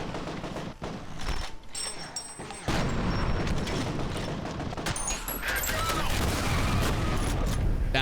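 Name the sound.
grenade explosion in video game F.E.A.R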